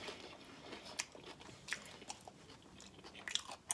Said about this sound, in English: Do like a crunch like that.